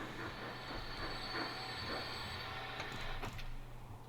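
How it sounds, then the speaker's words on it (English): A train arriving in the Transport Fever 2 video game, a continuous rumbling rolling noise with squealing wheel tones and a few clanking bumps, fairly close and steady throughout, no one talking. "Okay, so the train has made it to here."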